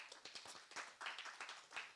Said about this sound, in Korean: 우리 이대왕님에게 감사하는 박수 크게 한번 쳐드시기 바랍니다.